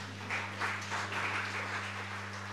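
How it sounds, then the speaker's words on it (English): A crowd claps briefly at a Jesus Youth gathering, with soft, somewhat distant clapping over a steady electrical hum. "Give him a clap."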